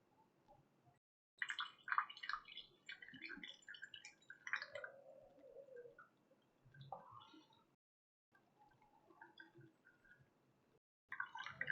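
Irregular drips and trickles of water poured for coffee splashing into a container, quiet and close, with short silent gaps between bursts.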